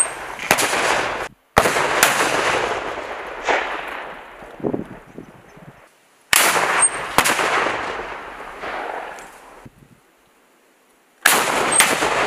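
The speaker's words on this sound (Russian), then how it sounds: "выстрел!" Bursts of gunfire in combat, loud and close, with sharp shots clustered in volleys separated by brief silences and echoing tails.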